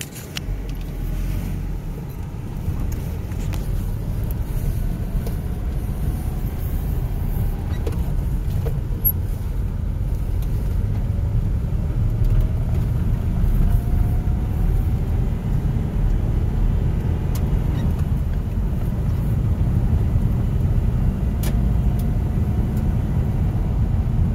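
A 1990 Mazda B2200 pickup engine idles cold at about 700 RPM outdoors, a steady low rumble that holds evenly throughout with no talking.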